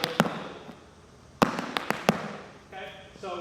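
Irish dance shoe steps tap on a floor in sharp percussive clusters, a few quick strikes near the start and a run of rapid taps mid-clip, close and crisp, followed by a brief tonal sound at the end.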